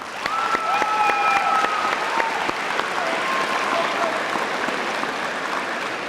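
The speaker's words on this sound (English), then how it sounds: "let's give them another round of applause" A crowd at a high school Veterans Day program applauds the band in steady, dense clapping that holds for about six seconds, with a few whistles riding over the top.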